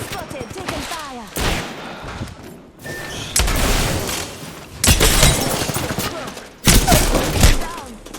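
Gunfire from the video game Apex Legends, with bursts of automatic fire and heavy thuds in repeated loud waves, the longest barrages near the end, over in-game chatter and mixed with distant shots between volleys.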